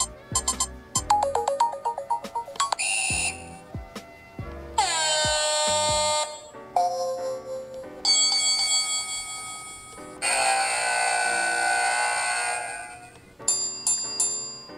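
A TempTech Flex temperature alarm goes off in a loud string of electronic beeps, chirps and sustained tones that shift pattern repeatedly, ending in short, rapid bursts.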